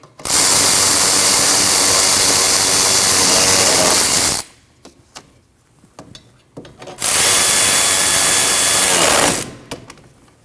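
Power tool running loudly in two sustained whirring bursts of about four and two and a half seconds, tightening the brake caliper bolts on a 2003-2008 Subaru Forester, with quiet clicks and handling noises in the pause between.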